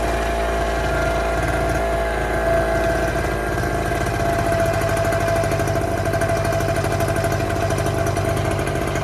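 A small 0.7 kW square portable generator engine runs steadily throughout, a continuous close-up drone with a constant rhythmic engine throb and no talk.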